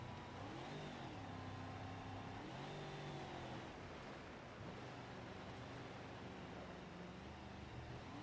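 A 400-horsepower car engine in a video game revs and shifts, rising and falling pitch sweeps over a steady quiet drone, faint and continuous with no talking.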